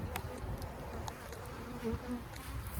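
Honey bees swarming over a hive frame during an inspection, a dense, steady buzzing hum up close with occasional louder passes.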